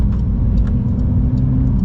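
Heard from inside while driving, the 2023 Porsche 911 GTS gives a steady, loud low engine and road rumble, continuous and close, with no talk over it.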